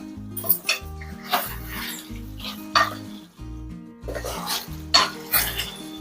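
Chicken fry stirred in a pan with a spoon, giving repeated scraping, clinking strokes over a soft sizzle, close and moderately loud, with no talking.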